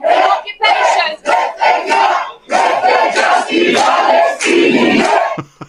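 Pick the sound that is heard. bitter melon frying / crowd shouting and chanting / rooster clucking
crowd shouting and chanting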